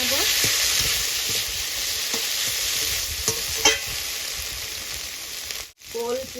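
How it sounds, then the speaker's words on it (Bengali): Shrimp sizzling steadily in a hot pan for an egg-gravy-free shrimp dish with elephant-foot yam stalks, with several scraping stirs of a spatula across the pan and a brief sharp clatter near the end. "চিংড়ি মাছগুলো এবার আমি দিয়ে দিলাম। ভালো করে নেড়ে চেড়ে নেব।"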